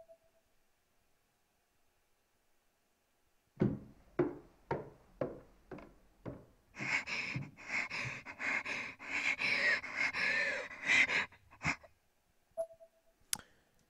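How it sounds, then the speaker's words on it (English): Heavy, erratic breathing and gasping from Corpse Party: Blood Drive: a run of sharp, separate gasps that turns into ragged, continuous panting, then quiets to a few last breaths, close and alone. "Her breathing became more and more erratic as her body rocked with convulsions."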